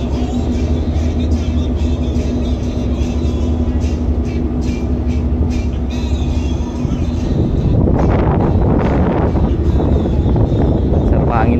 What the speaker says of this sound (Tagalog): Sarap hangin dito.